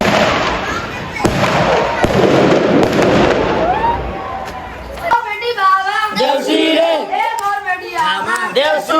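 Firecrackers crackle and burst in dense, loud volleys during a Bhai Tika celebration, with voices shouting and chattering over and after the blasts.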